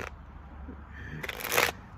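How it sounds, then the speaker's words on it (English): Tarot cards are shuffled in a quiet riffle, with a short flurry of crisp card slaps that builds to a louder burst near the end. "Spirit wanted to shuffle."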